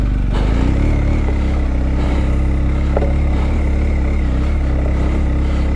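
A motorcycle cruising along a country road in the hills, its engine droning loud and steady throughout with a constant low rumble and faint clattering.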